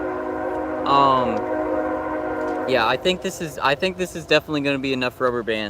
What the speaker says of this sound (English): Yeah, we got some trains going by.